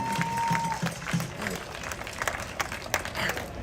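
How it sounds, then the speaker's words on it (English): Crowd at an outdoor protest rally in Washington DC breaking into applause, many hands clapping in a continuous wash with scattered cheers, moderately loud, a steady brief tone at the start. "Please, another round of applause."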